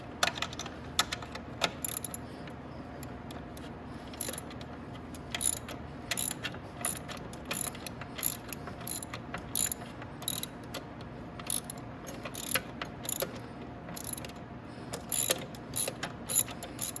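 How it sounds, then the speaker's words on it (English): A ratchet clicks in quick bursts as motor bolts are loosened on a Venom E-Racer 1000W kids electric ATV, with short pauses between runs of sharp, close ratcheting. "let's finish getting these bolts off that Hercules put on here."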